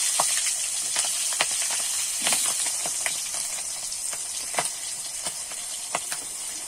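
Green chillies and chopped potatoes frying in a pan, a continuous bright hiss of sizzling oil with scattered small pops and crackles throughout.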